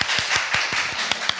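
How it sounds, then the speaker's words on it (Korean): Studio audience applauding a guest at a literary reading event, a short steady burst of many hands clapping in a dense, even patter with no voices over it. "큰 박수를 부탁드립니다"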